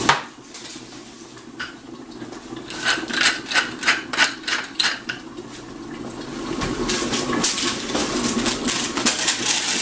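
A hand pepper mill grinds over carrots cooking with butter and stock, giving a series of rhythmic, close raspy crunching turns followed by steadier scraping and rubbing kitchen sounds.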